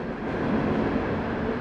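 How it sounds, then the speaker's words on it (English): A Norfolk Southern freight train passes overhead, heard from a tunnel below as a steady, muffled low rumble with no voices. "go underneath the Portstown tunnel when the train's actually going overhead"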